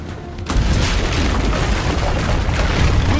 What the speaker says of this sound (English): Use the cannons above the rampart.